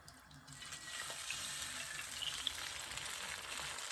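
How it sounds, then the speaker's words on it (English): An egg poured into a hot frying pan for scrambling gives a bright, continuous crackling sizzle at close range, steady throughout with no talking. "That sizzling sound is epic"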